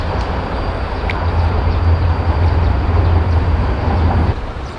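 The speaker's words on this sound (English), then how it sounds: "a train." A train passes near an alley beside gardens in Seoul, giving a steady, loud low rumble and rolling noise that holds for several seconds without speech.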